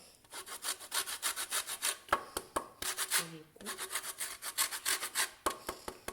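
A lemon peel is rubbed briskly against a zester for rice beignets, a close, rhythmic rasping scrape in quick strokes with a short pause midway, and no voices.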